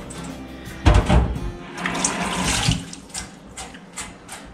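Goat bones being washed under a running kitchen tap. Water gushes in with a sudden splash, then flows steadily and unevenly before tapering off, with no voices.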